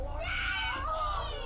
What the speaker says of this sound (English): Oh, the scream.